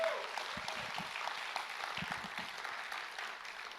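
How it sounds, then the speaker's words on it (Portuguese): A class in a Portuguese-language leadership course gives a round of applause for the Lord in thanks for a professor's life, a steady wash of clapping heard from a distance at low level, with faint murmuring underneath. "Aplauda ao Senhor pela vida dele."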